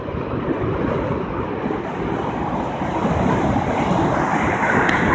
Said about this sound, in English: the water comes rushing down at about 75 to 80 miles per hour, crashing down